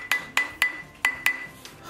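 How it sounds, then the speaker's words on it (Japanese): Small hammer tapping metal in a rhythmic series of five sharp, bright, ringing strikes at uneven intervals, close and clear with no talking. "今トントンしてますね。"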